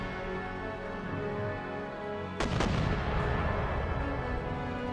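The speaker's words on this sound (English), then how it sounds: "my howitzers have opened up on not the best target" Howitzer artillery opening fire in Empire Total War, a sudden loud boom at mid-clip followed by a couple of quick follow-up blasts and a rumbling tail over a steady background of game music.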